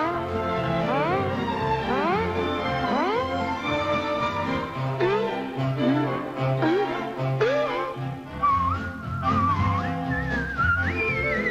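A melodic whistled tune from Disney's Pinocchio, with sliding notes over musical accompaniment, steady and fairly loud throughout.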